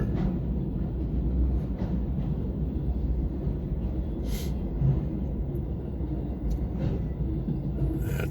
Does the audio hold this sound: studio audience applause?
no